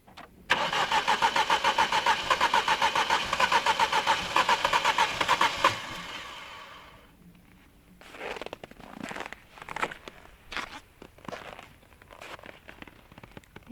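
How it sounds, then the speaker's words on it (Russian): A car engine cranks repeatedly in winter cold, a fast rhythmic starter whir lasting several seconds without catching, then stopping; afterwards faint clicks and muffled voices follow. "Не заводится."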